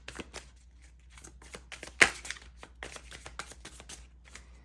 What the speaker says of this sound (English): I do like to shuffle a lot.